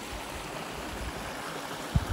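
Stream water pours through a beaver dam beside a road culvert in a steady, broad rushing hiss, continuous and fairly close, with a couple of low bumps at the end.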